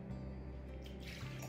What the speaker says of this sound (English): So I pour it all in. Pour it all in slowly.